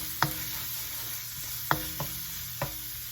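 Garlic and ginger fry in hot oil in a pan, a soft steady sizzle broken by three or four sharp clinks of a utensil stirring against the pan.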